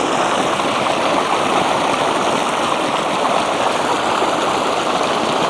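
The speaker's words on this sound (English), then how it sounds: "Kind of soothing hearing the rapids, the noise." Rapids of a trout stream rush past a weir in a steady, loud, unbroken roar of moving water, close by and uninterrupted by any voices.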